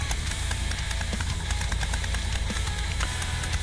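A 1952 Windolph Chain Tred tracked walk-behind tractor idles with its gasoline engine, a loud, steady, close-up chugging throb that runs unbroken throughout with no talking.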